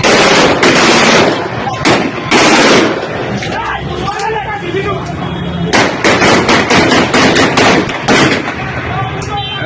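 Bursts of gunfire aimed at a political party procession in Gujrat, Pakistan, loud and close, with rapid volleys and single sharp cracks over several seconds amid shouting voices.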